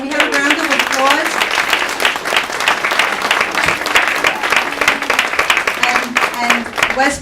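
An audience at a gala breaks into loud, dense applause that holds steady for several seconds. A voice carries over the clapping at times.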